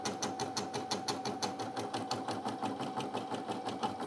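A Brother PE900 embroidery machine runs a regular stitch, not a satin stitch, with a steady fast rhythmic chatter of needle strokes and a constant motor hum, close and alone with no talking.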